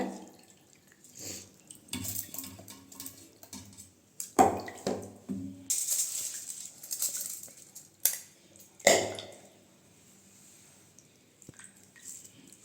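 Washed pearl millet being strained, with water trickling and dripping as it drains off the grain, plus a few soft squishy handling sounds, close and fairly quiet with no talk.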